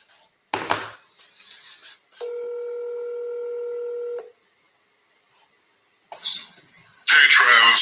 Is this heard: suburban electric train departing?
no